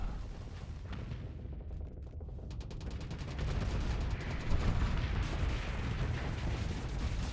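Cannon fire in a Starsector space battle, a steady rumbling stream of distant booms and rapid shots that swells louder partway through, with no talking over it.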